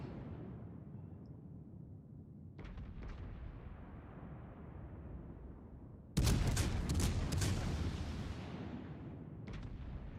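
Warship gunfire in World of Warships Legends: a loud broadband boom at mid-clip with a long rumbling decay, preceded by fainter distant shot bursts and followed by another small burst near the end, no talk.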